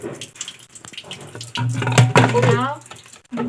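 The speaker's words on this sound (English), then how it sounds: "Wash your hands thoroughly." Tap water runs into a sink during handwashing, a steady rush that grows louder midway, with a voice talking over it.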